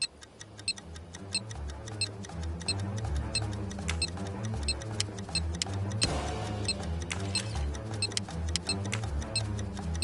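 A bomb ticking in a Poirot video game, a steady, even clock-like tick repeating throughout under a low droning game background, no one speaking.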